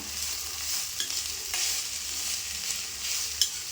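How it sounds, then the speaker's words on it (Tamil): Shredded cabbage being stirred into softened, sautéed onions in a frying pan, with a steady sizzle and a few sharp scrapes of the spoon against the pan; no talking. "இப்போ இந்த முட்டைகோஸ் இதில் சேர்த்துக்கலாம். நல்லா கலந்து விட்டுக்கலாம்."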